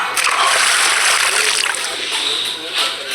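Water splashing and sloshing in a loud, continuous wash of noise with surging swells throughout.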